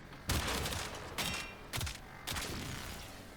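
Four separate bursts of gunfire in the video game Warframe, each a sharp blast trailing into a rumbling decay, fairly quiet overall.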